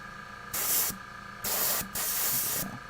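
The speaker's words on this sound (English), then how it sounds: "now you guys just get to hear the squirting" Spray paint bursts onto a Warhammer 40k Space Marine model in three close, loud hissing blasts of about a third to three quarters of a second each, with short pauses between them and no talking.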